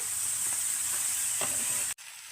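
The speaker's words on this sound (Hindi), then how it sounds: "हरी मिर्च और हरा धनिया भी डाल देंगे और अच्छी तरह से मिक्स करेंगे" Potatoes, garlic-ginger paste, green chillies and coriander are stirred together in a hot pan on a tawa, a steady broad sizzle with faint scraping strokes that cuts off abruptly near the end.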